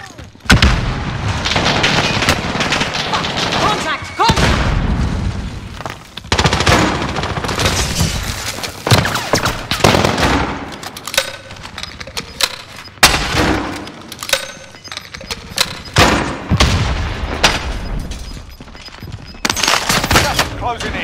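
Gunfire and explosions in the Call of Duty: Warzone video game, with a grenade blast among repeated sharp bursts and rattling shots in loud clusters and short pauses, and voices talking at times.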